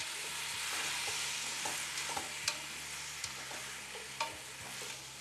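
Vegetables browning in a pan with Kentucky bourbon sizzle steadily, with a few soft scrapes of stirring and light pops rising above the continuous frying hiss.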